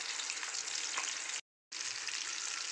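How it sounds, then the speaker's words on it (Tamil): Chicken pieces fry in a kadai with a steady, close hiss of bubbling oil, broken by a brief silent gap midway. "சிக்கன் வந்து நம்ம லைட்டாக ஃப்ரை பண்ணி எடுத்துக்கலாம்."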